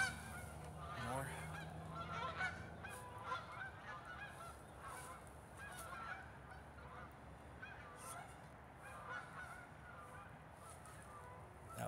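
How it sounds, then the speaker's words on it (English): A flock of geese honk repeatedly in a steady, moderately loud chorus of overlapping calls that runs the whole time, with faint background hiss and no talk. "We have 7 geese."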